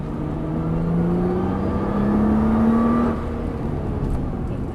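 A car accelerates hard on a race circuit during a passenger ride, the engine note climbing steadily and loud up close for about three seconds, then easing off into a steady drone.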